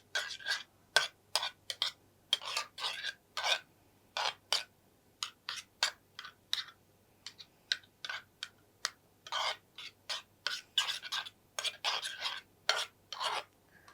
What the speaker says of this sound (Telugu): ఇది నీట్‌గా మిక్స్ చేసుకోవాలి